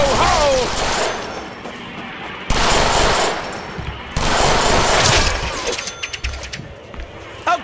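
Machine gun fire rattles in the Deadpool video game in several long, loud bursts with brief gaps between them, dense and rapid, with game effects layered underneath.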